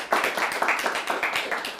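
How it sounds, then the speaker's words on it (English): A short burst of clapping from a small studio show audience, separate claps clearly audible in a quick, uneven rhythm, close and moderately loud, with no talking over it. "Come on, big applause for that."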